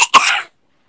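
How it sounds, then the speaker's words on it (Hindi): A single short, sharp cough from a person nearby, loud and close, fading quickly into silence. "अरे मेरे को वैसी खांसी आई है।"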